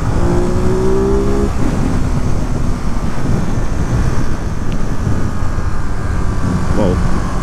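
A 2022 Ducati Monster Plus rides along with its engine droning and quick-shifter gear changes, heavy wind rush over everything and a short rising tone near the start.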